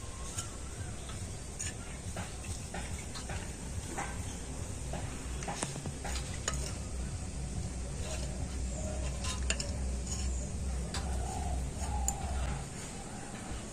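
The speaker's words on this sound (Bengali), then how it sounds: "এখন আমি সব কিছু কিন্তু খুব ভালো করে মিশিয়ে নিচ্ছি" Turmeric and the juice of a whole lime are worked together by hand for homemade sindoor, giving scattered scraping and clicking stir strokes over a steady low background hum, with no talking.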